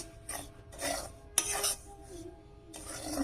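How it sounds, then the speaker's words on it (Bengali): Ingredients for a milk puli with date palm jaggery being stirred in a pot after water is added, heard as several bursts of close scraping and rubbing with a sharp clink between them, moderately quiet. "জল দিতে হবে আর এইভাবে নাড়তে হবে"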